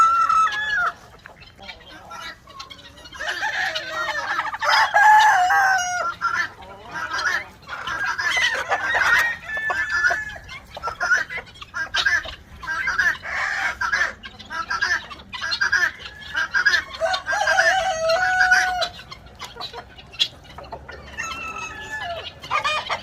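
Chickens and roosters let out of farm coops cluck and crow continuously and loudly, with several birds calling over one another close by and in the distance.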